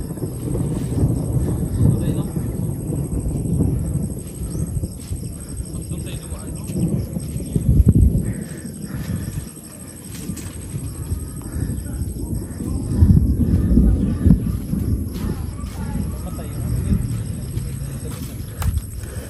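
Rain pouring down with deep rolling rumbles of thunder swelling and fading during a storm, loud and continuous, with people talking underneath at times.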